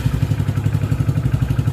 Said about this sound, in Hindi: तो बाइक को स्टार्ट करते हैं।